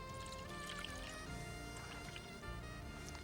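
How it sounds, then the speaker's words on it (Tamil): Three cups of milk poured into a cooking pot, a faint continuous liquid stream with soft splashing and dripping, steady throughout without any talking. "இப்போ பால் வந்து 3 கப் சொல்லியிருக்கேன். இதை வந்து ஒரு பாத்திரத்தில் ஊற்றிடுங்க"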